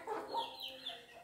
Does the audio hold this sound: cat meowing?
no